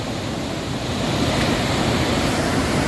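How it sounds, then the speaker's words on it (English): A river waterfall along the Appalachian Trail, near where water diverts to a power plant, gives a steady broadband roar that rises slightly after the first second and carries on unbroken with no voices. "Okay, there are the falls."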